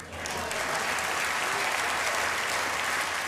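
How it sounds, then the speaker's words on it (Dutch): A studio audience at Studio 21 in Hilversum applauds during a televised 40th anniversary celebration for a Dutch band, steady dense clapping that swells in and holds loud throughout. "APPLAUS."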